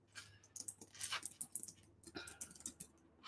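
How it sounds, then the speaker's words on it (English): Quiet clicking of fingers typing on a computer keyboard, an irregular patter of keystrokes close by with no talking. "Let me type that out for you all."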